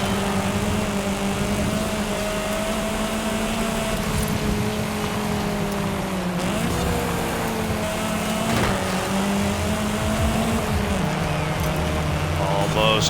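Race car with rally suspension driven in Forza Horizon 5, a steady engine drone with rising and falling pitch that runs unbroken for the whole stretch, loud and close, with a brief shift around the middle.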